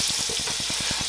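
Mushrooms and garlic sauté in a pan, giving a brief, close, steady sizzle with faint stirring scrapes.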